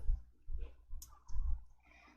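Computer mouse clicks during work in an Excel spreadsheet, a few soft, close clicks with thumpy low handling noise in between and no speech.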